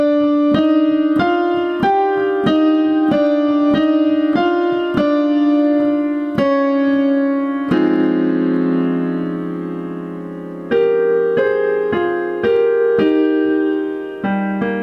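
Piano plays the closing section of a song, with steady repeated chords and melody notes struck in even rhythm, a sustained low rolled chord midway, then further crisp chords, close and clear without talking.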